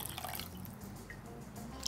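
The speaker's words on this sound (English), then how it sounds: "we just want to top this up with some water, just enough to kind of almost submerge those chicken pieces" Water poured into a cooking pot to almost submerge soy sauce chicken pieces, a soft steady trickling and dripping for about two seconds, close and fairly quiet, with no talk.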